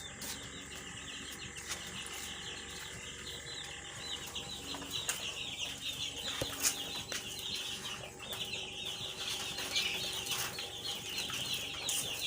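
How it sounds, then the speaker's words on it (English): Chickens in a brooding pen chirp and cluck in a busy, continuous chorus, with occasional wing flaps and small knocks, fairly faint and ambient throughout. "So you are welcome to our brooding pen. So these are our birds."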